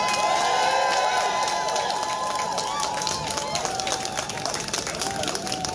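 A demonstration crowd cheers, claps and roars loudly for a music act, a dense sustained wave of applause and shouts with whistles and voices mixed in, easing slightly toward the end.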